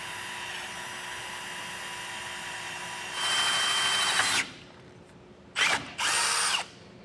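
A power drill with a 1/2 inch bit bores through the steel frame of a 2024 Ram 1500 pickup, whining steadily and rising to a louder burst, then stopping and restarting for a second short run.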